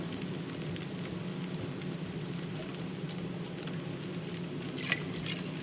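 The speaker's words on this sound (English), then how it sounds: "So I'm going to now add a little bit more water, cold water, of course." Cold water trickles faintly into a cooking pot on a stove where eggs and potatoes are boiling, a soft, continuous liquid sound under a low kitchen hum.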